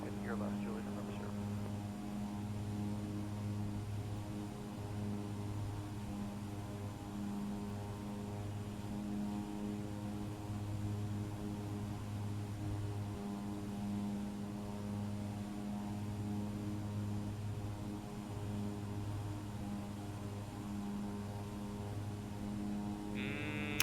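Cabin of an Embraer 110 turboprop in flight at altitude, a steady droning engine and propeller hum with a pulsing low throb, continuous throughout.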